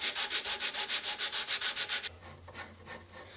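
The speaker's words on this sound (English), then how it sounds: "Pull it all off with that sandpaper." Sandpaper rubbed by hand on the wooden stock of a Ruger 44 carbine, a loud, steady back-and-forth rasp of about a dozen quick strokes, then a few softer, slower scrapes near the end.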